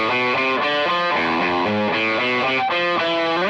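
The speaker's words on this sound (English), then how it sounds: "dirtier, kind of really muddy distortion sound" Electric guitar through a muddy distortion pedal plays a short riff of thick, fuzzy chords and notes, loud and close with no talking over it.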